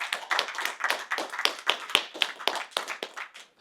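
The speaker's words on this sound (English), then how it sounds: "Round of applause for Chan for hiring his wife." A small room of salespeople clapping for a colleague during a sales training session, sharp distinct hand claps at close range, fairly loud and uneven, with no talking over them.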